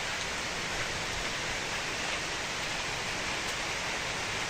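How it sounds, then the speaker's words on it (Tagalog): Sudden rain falls outdoors on a vegetable garden with eggplants, a steady dense hiss of drops that holds at an even level throughout with no voices. "Magsusunog ako doon, biglang umulan."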